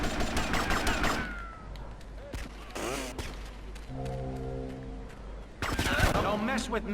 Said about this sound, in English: I'm gonna shoot your corpse more.